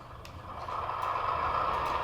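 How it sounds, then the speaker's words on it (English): An air compressor effect from a sound-equipped model locomotive runs as a steady, faint mechanical hum with a rising, sustained hiss throughout. "Sounds like your air compressor for number 6."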